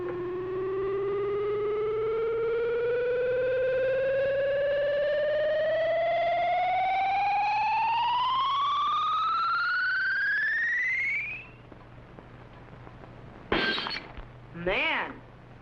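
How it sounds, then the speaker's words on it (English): A glass jug in a laboratory testing chamber is hit by an ultrasonic ray, heard as a loud rising electronic whine that climbs for about eleven seconds, then cuts off before short crashing bursts. "whatever the beam hits will be instantly shattered by the ultrasonic sound wave vibrations"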